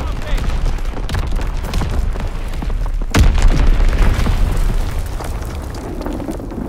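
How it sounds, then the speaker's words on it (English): Booming artillery and a Fritz X bomb explosion rumble in a Call of Duty WWII multiplayer match, with a sharp heavy blast midway over continuous loud low battle noise and radio-style voice callouts. "Firing primary battery. Target position confirmed. Enemy recon aircraft in the air. Fritz X bomb mission underway."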